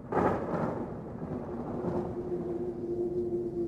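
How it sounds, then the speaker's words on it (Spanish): A deep, rolling thunder rumble sounds once over a bay during a storm, a loud swell at the start that fades into a long, low, steady roll. "Le sigue un trueno que brama como enorme estrépito."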